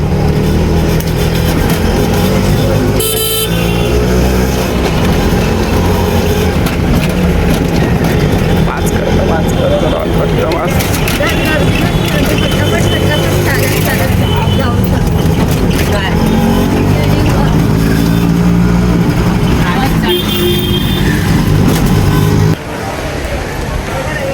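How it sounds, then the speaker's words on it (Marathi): Auto-rickshaw ride along a road in Virar, with a steady engine drone and road rumble throughout, traffic noise around, and people talking over it. "आणि ही आहे रिक्षा ज्याच्यात आम्ही बसलो आहे."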